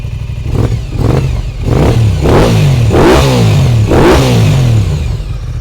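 An Aprilia motorcycle with an Akrapovic exhaust revs hard several times in quick succession, each throttle blip rising and falling in a loud, close, rasping bark with a brief lull in the middle.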